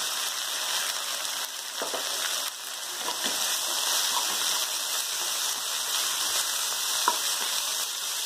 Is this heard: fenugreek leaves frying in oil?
yes